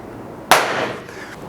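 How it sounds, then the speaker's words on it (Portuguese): An entry-level air rifle fires a single sharp shot during a trigger test, a sudden crack followed by a brief fading ring in a quiet room. "deixa eu dar mais um disparo aqui para ter certeza"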